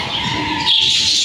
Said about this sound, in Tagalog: Di ba lovebirds to, Nilo?